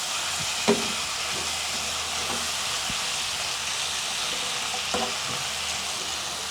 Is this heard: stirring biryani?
yes